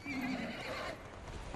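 A horse in the video game Ghost of Tsushima gives a clear whinny, followed by quieter hoof clops, all heard close and without any talking.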